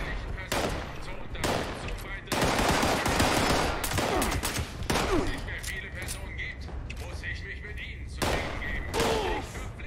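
Rapid bursts of gunfire in the post-apocalyptic shooter Fallout 76, with several loud volleys and single shots recurring throughout, sometimes in quick succession, while a voice talks over the action.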